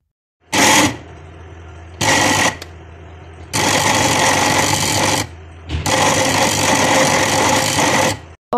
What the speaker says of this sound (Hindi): अब मैं बादामों को भी अच्छी तरह से ग्राइंड कर लूँगी